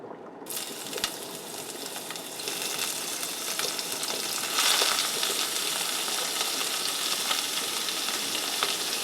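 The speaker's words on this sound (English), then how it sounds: "Now we're going to start stir frying our shrimp." Pre-cooked shrimp sizzle steadily in hot olive oil in a pan, with occasional scraping and stirring clicks, growing a little louder partway through.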